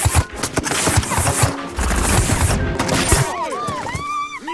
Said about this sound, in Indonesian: setelah situasi dirasa pas, mereka pun langsung menembak mereka.